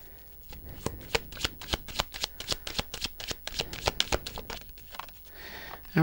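Tarot cards being shuffled by hand in quick, crisp riffling bursts that repeat in a rapid, steady rhythm, close and fairly quiet.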